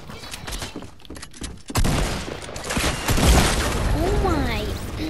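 Rapid gunfire bursts in Fortnite, with a sharp crack near the start followed by a dense, continuous spray of shots and effects, while voices talk over the action.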